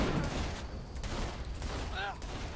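Gunfire in the video game Saints Row, a steady stream of rapid shots under a busy game soundtrack, with a voice talking briefly.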